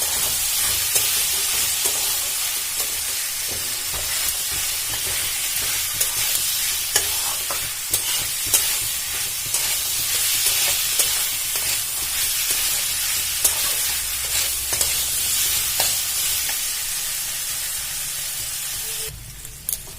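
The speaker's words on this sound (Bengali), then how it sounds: "এই ছলাগুলো এর মধ্যে দিয়ে দেবো। দিয়ে ভালো করে নাড়াচাড়া করে নেব।" Soaked chickpeas being stirred in a frying pan with hot oil: a steady crackling sizzle runs for about twenty seconds, broken by frequent scraping stirs close by, with no voices.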